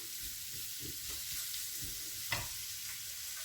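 Onions sauté in a spoonful of olive oil in a frying pan, sizzling in a steady, even hiss, with low stirring scrapes and one brief sharper tap.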